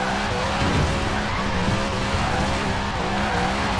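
A car drifting in Forza Horizon 4 squeals its tires continuously, a steady loud screech over engine roar with wavering pitch lasting the whole stretch, with no talk.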